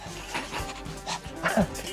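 A small dog yips and barks in a comedy film scene, several short sharp barks spread through two seconds, the loudest near the end, over a busy background.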